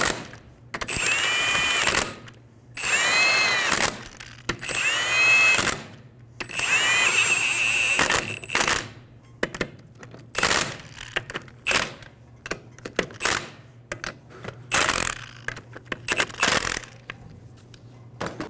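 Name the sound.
power tool snugging lug nuts on Toyota Camry wheel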